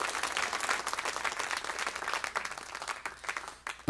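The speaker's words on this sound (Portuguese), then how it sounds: "Aplauda mais forte a Ele." Applause from a church congregation swells in rapid, dense clapping, many hands heard up close, then thins out toward the end.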